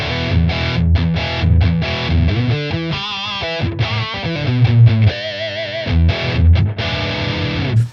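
Electric guitar played through a Friedman-style amp tone on a Tonex modeler, with treble added and mids and bass pulled back, gives distorted chords and riffs with sustained ringing notes, loud and continuous with brief pauses.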